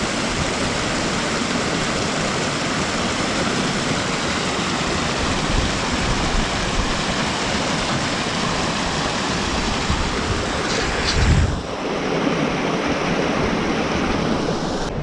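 Constant broadband rush of a flowing river outdoors, close and loud for the full length, with a brief thump of handling noise near the end and no talking.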